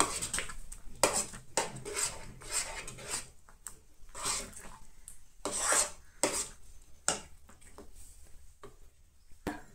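A spoon scrapes and clinks against a pan while a sweet leftover-rice dessert is stirred, in quick, repeated rasping strokes close to the ear.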